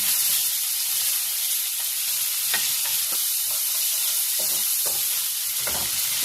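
Garlic and ginger paste sizzles and fries steadily in a hot pan with oil, a continuous bright crackle with occasional stirring scrapes, fairly loud and close with no voices.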